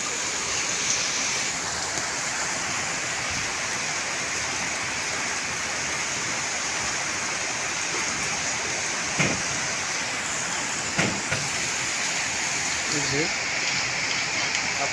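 Steady rain falls in a continuous, even hiss that stays loud and close throughout, with a few faint knocks and what may be a distant voice underneath.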